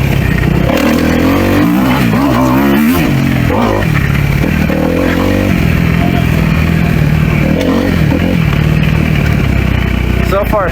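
A Kawasaki KX250F dirt bike rides along a trail track, its engine revving and rising and falling continuously as the throttle opens and closes, loud and close throughout, with clattering from the rough ground.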